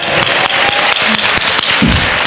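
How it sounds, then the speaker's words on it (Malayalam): Congregation in a church clapping their hands in praise of the Lord, a dense, steady crowd of claps that stays loud and close throughout. "കൈയടിച്ച് കർത്താവിന് മാത്രം"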